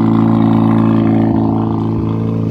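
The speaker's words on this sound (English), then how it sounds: "You can hear it on idle as you get around to the back." A loud race car engine idles at a race track skid pad, a deep, steady, throbbing drone with rich rumbling harmonics and a couple of small lopes, close and constant with no voices.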